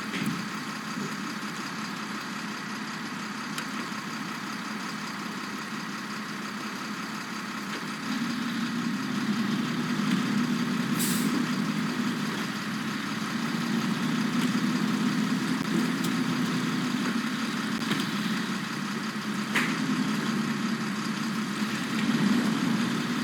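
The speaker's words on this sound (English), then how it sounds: "we'll just go ahead and leave its engine running in case." A truck engine idles in the off-road driving game Snowrunner, a steady low rumble at moderate volume that gets slightly louder partway through. A few faint ticks sit over it, with no voices.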